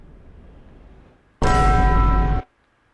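A loud gong rings out once in a brawler video game, a sudden bright metallic crash that sustains for about a second and then cuts off abruptly into silence.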